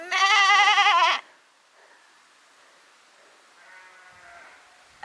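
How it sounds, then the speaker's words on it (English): A sheep bleats loudly and close for about a second with a wavering, tremulous cry, then fainter answering bleats follow far off across an open outdoor setting. "So one of Shah's many skills is speaking sheep."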